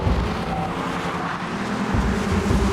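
Mercedes SLK sports car engine running steadily and loudly, a dense continuous drone with a slight swell near the end.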